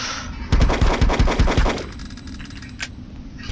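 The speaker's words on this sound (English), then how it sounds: "this is some reactive target shooting" Rapid bursts of video game gunfire in Hitman aimed at reactive targets, a dense rattling string of shots for over a second, then quieter ambience with one brief sharp hit.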